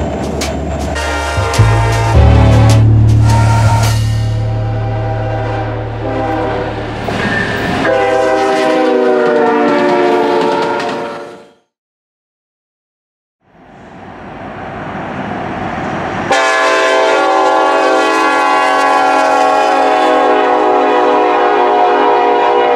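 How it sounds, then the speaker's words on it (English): Loud railroad train horns blaring in long sustained chords, several separate blasts with a short silent gap between them, close and dominant with no talk. "today's discussion will be on train horns"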